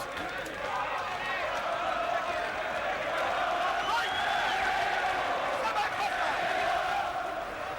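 A ringside crowd at a WBO 130lb title boxing bout gives a steady, distant wash of applause and murmur that runs unbroken throughout, while a commentator talks over it.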